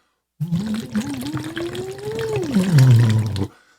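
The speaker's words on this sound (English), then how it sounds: "You keep the rate of the bubbles steady." Bubbles are blown into water during a vocal exercise, bubbling steadily and close up while a hummed voice glides slowly upward, then drops to a low tone before stopping abruptly.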